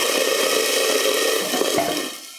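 A squirt of water hits hot oil in a pan of frying pork and shrimp potstickers, a loud steady hiss and sizzle that fades slightly toward the end.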